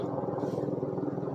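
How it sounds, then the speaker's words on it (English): A steady low rotor drone with a rhythmic pulsing chop hangs over the whole clip, loud and continuous, like a helicopter passing close overhead. "Sorry about the helicopter."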